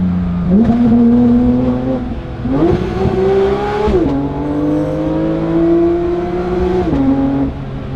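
A Porsche 992.2 GT3 engine revs hard several times to 9,000 RPM, pitch climbing steeply with each push and dropping between, loud and close with a raspy high-revving whine.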